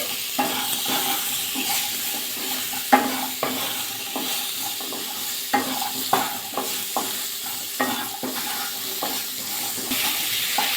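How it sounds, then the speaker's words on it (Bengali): Radish, egg and beans frying with potato and carrot in a pan for a winter vegetable dish, stirred repeatedly: steady sizzling under regular scraping strokes of the spatula, close and moderately loud, with no talking. "এবার অ্যাড করবো মূলো, ডিম, শিম একটু ভাজা করে নেবো একসাথে দিয়ে।"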